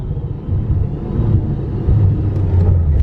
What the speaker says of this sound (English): It's running out of fuel. You ran out of E85.